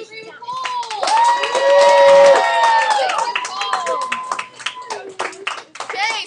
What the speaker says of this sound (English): clap if you agree with Cole